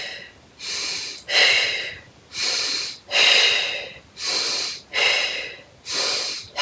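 Deep yoga breathing, slow inhales and exhales alternating in an even rhythm, each breath about a second long, close and clear with no talking.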